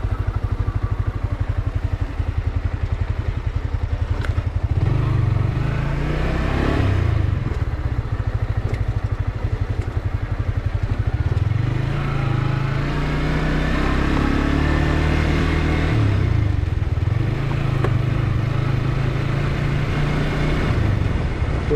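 A motorcycle rides near Mohamaya Lake in Mirsarai, Chattogram, its steady mid-pitched engine drone rising and falling with throttle over constant road and wind rumble for the full stretch, with no talk.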